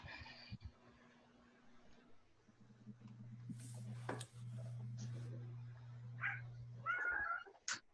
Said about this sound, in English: that's my kitten again.